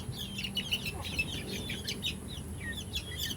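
Several hens crowd a cramped farm coop, mother hens among them, giving soft overlapping clucks and chirps in a steady busy murmur with a low hum of background noise throughout.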